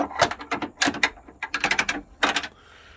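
A ratchet works on a bolt inside a Subaru Forester door from the 1997–2002 era, sounding as quick bursts of sharp metallic clicks in uneven groups, close and fairly loud, with short pauses between strokes and no speech.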